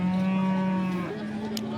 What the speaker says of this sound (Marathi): शांत गाय